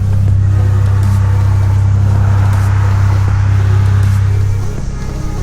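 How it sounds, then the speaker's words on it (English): A passing car on a road, its steady low engine rumble holding loud and close throughout, then easing off slightly near the end. "There's a car coming."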